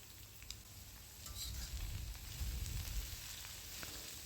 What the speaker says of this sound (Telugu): కొద్దిగా ఎండ్రేలు వేగిన తర్వాత ఉల్లిపాయలు వేసేసుకోవాలి